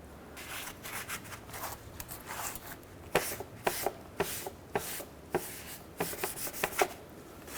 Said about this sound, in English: just scrape off any debris that might be here or remaining gasket material